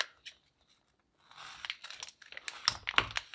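A plastic piping bag fitted with a 2D piping tip crinkles and rustles as it is handled. A brief rustle comes first, then about a second of quiet, then steady close crinkling that grows louder and busier.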